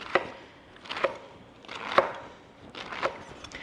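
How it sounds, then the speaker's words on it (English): Knife slicing through a gathered bunch of oyster mushroom lobes on a cutting board, four soft, distinct cuts about a second apart, close and quiet with no talk. "I just take my knife, kind of gather all of the lobes together and cut through from top to bottom"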